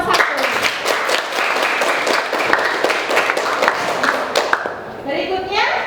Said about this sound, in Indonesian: aplaus buat kelompok 1